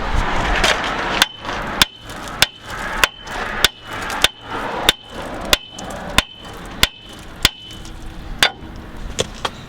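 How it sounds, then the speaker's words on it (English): Sharp metallic hammer strikes ring out one after another at a steady pace, about fifteen loud whacks on a power steering rack part of a Ram 3500 truck, each followed by a brief ring. "Now we grab the hammer again, give it a couple whacks"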